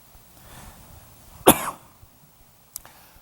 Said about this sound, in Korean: 헛기침이 나옵니다.